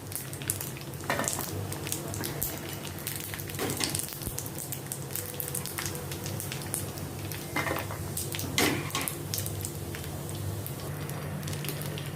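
Macaroni frying in hot oil makes a continuous bubbling sizzle, with a few sharp clinks of a utensil against the pan and no voices.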